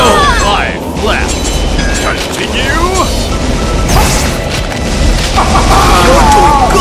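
Gunshots in the Sega Golden Gun arcade game, loud continuous booming shots and crashes layered with game effects and chirping tones, while players shout over them.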